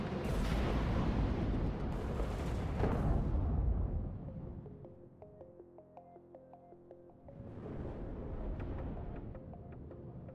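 Heavy booming blasts of tank cannon fire and battlefield explosions in the WARNO real-time strategy game, loud and dense for the first few seconds before dropping to quieter rumbling with small clicks, then swelling again.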